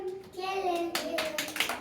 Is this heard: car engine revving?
no